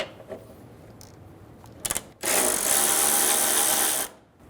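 A power ratchet or impact tool spinning off the 14mm strut nuts on a 2011-2014 Hyundai Sonata, a couple of brief clicks and taps followed by a loud, steady two-second buzzing whir close by, then quiet.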